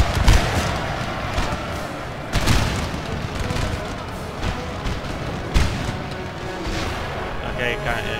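Musket volleys are exchanged in the Napoleonic battle game Napoleon: Total War, rolling booms and crackling gunfire bursting several times over a dense battle din, with speech mixed in.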